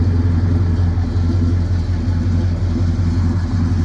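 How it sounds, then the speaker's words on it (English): A 1972 Chevrolet El Camino SS 396 runs steadily through its exhaust, a loud, deep, continuous rumble with a pulsing low throb and no talk over it. "Awesome sounding exhaust."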